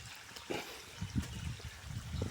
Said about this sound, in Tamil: காலையிலே தண்ணி பாய்க்க ஆரம்பித்தாச்சு.